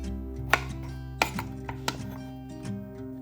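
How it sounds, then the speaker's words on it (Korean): A knife chops washed round zucchini into bite-size pieces on a cutting board, a few sharp, irregular thunks close by in a quiet kitchen with no talk. "깨끗이 씻은 애호박은 한입 크기로 잘라주세요."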